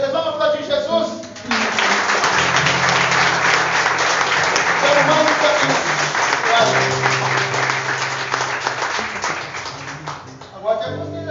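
Church congregation applauding for Jesus during a sermon, a sustained burst of dense clapping lasting several seconds, with the preacher's voice heard before and after it.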